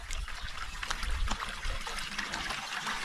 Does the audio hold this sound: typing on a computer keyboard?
no